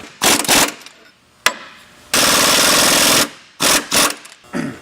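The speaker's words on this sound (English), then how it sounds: "now we can go ahead and tighten up our idler support mounting bolts" Idler support mounting bolts are tightened during a SuperSteer idler install, with a power tool rattling in loud bursts: short hammering runs, one long steady buzz, then more brief bursts, close up.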